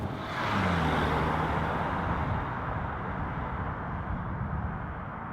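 A DS7 Crossback SUV in sport mode accelerating from inside the cabin, engine drone rising briefly with a low harmonic sweep, then a steady broadband road and wind roar continuing at a constant level.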